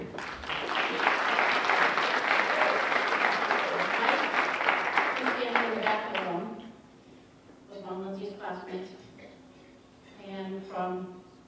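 A crowd at a scholarship fundraiser gives loud, sustained applause for about six seconds. It fades out, and then a single voice speaks alone in the quieter room.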